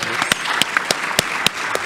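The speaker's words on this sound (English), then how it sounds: "Please, warm round of applause." Applause from a conference audience at a data protection event, a steady patter of many hands clapping with a few sharper claps standing out, fairly close and without talk.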